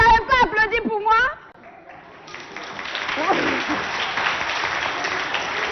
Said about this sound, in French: Maximum d'applaudissements pour accompagner nos chers amis